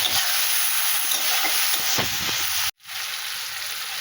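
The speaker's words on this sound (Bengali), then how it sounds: "আমি একটু ভাজাভুজি করে নেব" Spice paste of coriander, cumin and chili powder fries in a pan with a loud, dense, continuous sizzle that cuts out briefly near the end before resuming.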